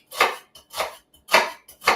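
A knife chops finely through a yellow onion on a board, four crisp, evenly spaced strokes close up with short pauses between them and no talking.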